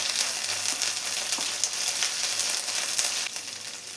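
Ginger garlic paste sizzling with onions in a hot pan, a steady close crackling fry with occasional stirring scrapes.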